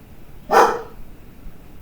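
A single dog bark, short and fairly close, rises out of a quiet room with faint background hum and no talking.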